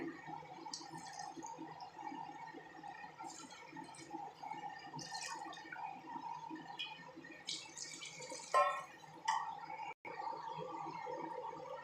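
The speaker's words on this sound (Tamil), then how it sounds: "ஒன்றுக்கு ஒன்றரைங்கிற மாதிரி நான் தண்ணி சேர்த்துக்கிறேங்க" Water poured into a cooking pot for a cowpea biryani, a soft trickling and splashing that comes in short bursts with a few louder sloshes, heard fairly close in a quiet kitchen.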